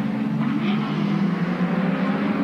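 A 1987 AMSCAR race car at Amaroo roars steadily at high revs, a sustained loud engine drone throughout with no clear break from the missed gear.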